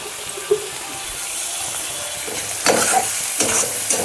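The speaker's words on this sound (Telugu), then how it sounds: "మసాలా అంతా ఆ ప్రాన్స్కి పట్టినట్టు ఫ్రై చేయాలి" Prawns frying dry in a masala coating in a pan, a steady sizzle with a spatula scraping and stirring, and louder scraping bursts toward the end.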